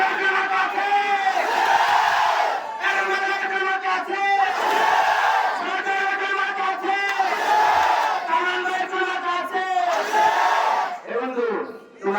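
A rally crowd in Kishoreganj chants slogans in loud, rhythmic unison, repeating phrases in surging bursts with short gaps between them, close and full throughout.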